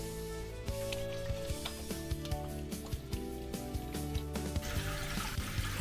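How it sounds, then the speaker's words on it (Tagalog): Water draining from a DIY concrete sink, a continuous gurgling flow with scattered clicks and knocks, close and moderately loud, no speech. "ito ay papakawalan na natin yung tubig tulad ng ginawa natin kanina"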